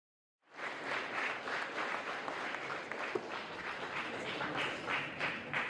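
A crowd at the Winter Raptor VII awards ceremony breaks into sustained applause that starts abruptly after a short silence and holds as a dense, even wash of many hands clapping.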